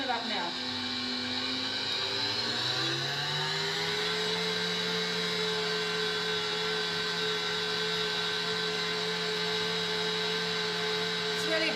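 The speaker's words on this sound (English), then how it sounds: "what I need to do now is turn this up and make it whisk real fast" An electric mixer whisks wet ingredients for a gluten-free, grain-free sandwich loaf, its motor whining up in pitch as it speeds to high and then holding a loud, steady buzzing drone.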